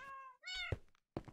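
A Minecraft cat meows twice in quick succession, a clear tonal mew followed by a rising second call, then a dull thunk and a short knock; close and moderately loud with no talking.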